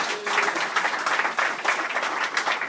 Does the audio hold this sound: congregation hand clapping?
yes